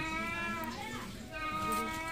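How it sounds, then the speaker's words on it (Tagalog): A cat meows several times in a row, close and fairly loud, its harmonic cries rising and falling over a faint background hum. "Ingay ng pusa"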